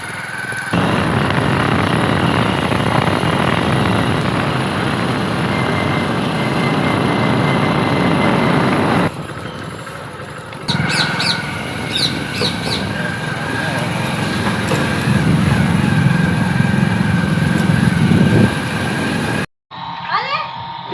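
Motorcycle engine drones steadily while riding along a village road in Banaskantha, with a brief drop partway and wind noise, then a short cutoff near the end.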